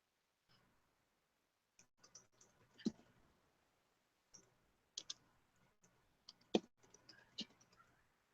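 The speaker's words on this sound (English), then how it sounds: "But I'm typing." Faint, sparse clicks of keys on a keyboard tapping in short irregular clusters in a quiet room, with no talking.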